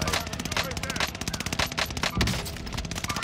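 LMG light machine gun in Call of Duty Warzone firing long, rapid sustained bursts of loud, close shots, with players talking over the gunfire.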